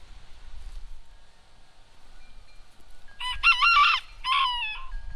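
A rooster on a ranch lets out two loud, close crows in quick succession near the end, after a stretch of quiet barnyard background with low rumble.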